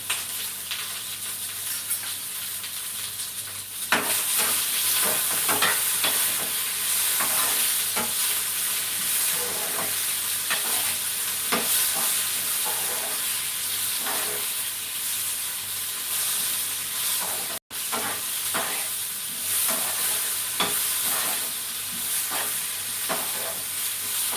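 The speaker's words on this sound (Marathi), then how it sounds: "टोमॅटो आपल्याला एकत्रित मिक्स करून हे सर्व व्यवस्थित असं भाजून घेत आहे लाल रंग येईपर्यंत आपल्याला हे सर्व भाजून घेत आहे" Tomato masala for paneer masala fries and is stirred in a pan, a quiet hiss first, then a loud, steady sizzle with frequent spatula scrapes, up close, broken by one sharp, brief dropout.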